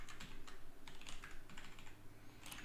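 Quiet, steady typing on a computer keyboard, soft irregular key clicks in quick runs with brief pauses, close by and without speech.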